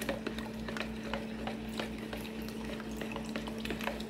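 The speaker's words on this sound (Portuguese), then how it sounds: "Vou mexer até misturar bem aqui." Homemade liquid laundry soap mixture made with used frying oil, stirred in a container with a steady background hum and a series of light scraping, clinking strokes at a moderate, close distance.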